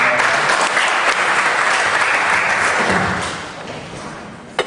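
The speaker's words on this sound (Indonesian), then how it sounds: "kasih tepuk tangan." A church congregation at a Sunday worship service applauds, a dense wash of many hands clapping together, loud and sustained before tapering off, ending with a single thump.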